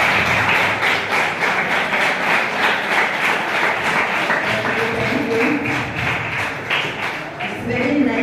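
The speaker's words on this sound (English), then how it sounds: "Clap for yourself." Schoolchildren at a model school clap together in a large group, a dense continuous patter of hands that holds steady for several seconds, with some voices mixed in underneath.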